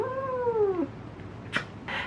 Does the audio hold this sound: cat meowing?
yes